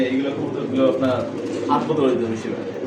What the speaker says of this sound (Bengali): ডানে নর মাদি বামেটা হচ্ছে নর কবুতর